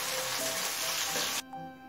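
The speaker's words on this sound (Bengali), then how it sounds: "চিংড়িটা খুব বেশি ভাজবো না, হালকা করে ভেজে নেব" Prawns fry in mustard oil in a wok with a dense hissing sizzle that cuts off sharply near the end, leaving a quieter tail with faint clinks.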